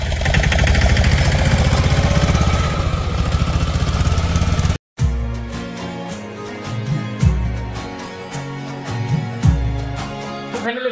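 A tractor engine running on a farm field, a steady, loud mechanical drone for about five seconds before it cuts off abruptly to a different, quieter sound.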